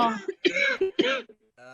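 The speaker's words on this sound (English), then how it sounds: "Who's coughing?" A few harsh, close coughs in quick succession, followed by a brief tonal sound at the end.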